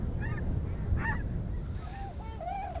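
Snow geese honk repeatedly in short, nasal calls over a steady rushing background, several birds calling at moderate distance.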